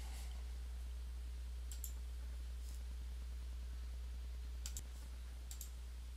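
A computer mouse clicks a few times during a software installation, faint, sharp taps spread across a quiet room with a steady low hum underneath.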